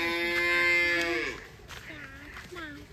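Goats calling near a village road in Pattambi, a loud drawn-out bleat followed by a few shorter, fainter bleats, with light outdoor background and no talk.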